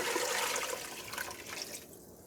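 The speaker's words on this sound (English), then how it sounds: "I'm going to go ahead and add water to my bones over here." Water pours into a pot over leftover chicken bones for broth, a steady splashing gush that eases off near the end, close and alone.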